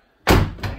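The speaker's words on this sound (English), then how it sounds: "Can you open the door and close the door?" An offroad vehicle door is shut with a loud, close slam, followed by a second softer thud about a third of a second later as it settles, during a pre-trip inspection.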